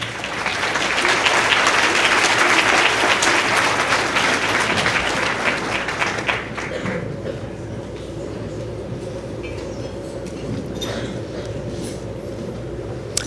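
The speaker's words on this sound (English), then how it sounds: "Cue applause." An audience at the Future Leaders of San Pedro event bursts into loud, dense applause that stays full for several seconds, then drops to a lower, steady rumble of room noise with a few lingering claps.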